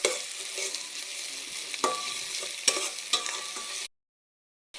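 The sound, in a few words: frying chopped onion, garlic and bay leaves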